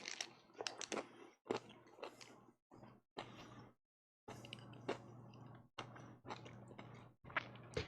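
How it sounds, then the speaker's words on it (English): Someone chews food close to the microphone in a quiet room, the moist crunches and smacks coming in irregular bursts separated by short silences. "They can hear me chewing right now."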